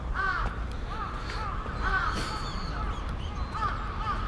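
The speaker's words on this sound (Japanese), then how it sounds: "なんかカラス多いな。" Crows caw repeatedly in a city park beside early-blooming Kawazu cherry trees, several harsh calls spaced through the stretch over steady outdoor background noise, with no talking.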